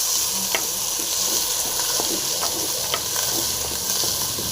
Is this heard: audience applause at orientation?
no